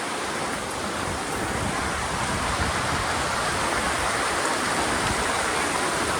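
A Himalayan glacial meltwater stream at Kedarnath rushes steadily and loudly, a dense, unbroken roar of turbulent water close by with no talk over it.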